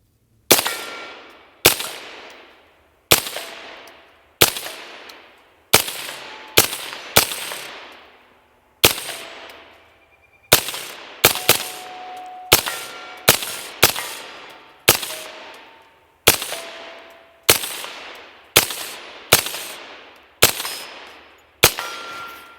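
Suppressed CMMG Banshee pistol in 5.7 firing about sixteen sharp shots at an uneven pace, each crack trailing into a ringing decay, loud and close with no talking.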